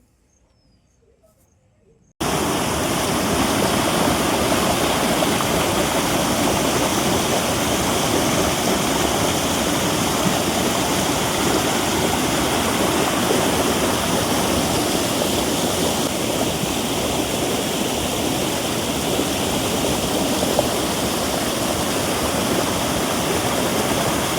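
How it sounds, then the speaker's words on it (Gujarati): A loud, steady roar of the fast-flowing Vavkuva waterfall near Khanpur, continuous and broadband, with no voices; it begins abruptly after a brief near-silent moment. "તો તમે જોઈ શકો છો આ બીજો ધોધ છે"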